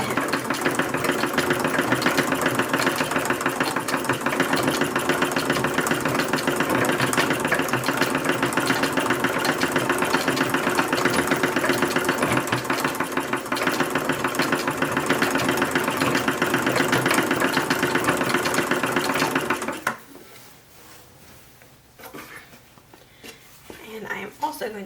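An original 1876 sewing machine stitches trim onto a toddler's dress in a long, steady mechanical whir with rapid rhythmic clatter, ending abruptly into quieter handling noises.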